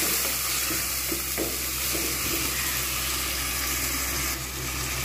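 Ginger garlic paste fries in oil after a little water is added, producing a loud dense hiss and bubbling sizzle with some stirring, close and steady.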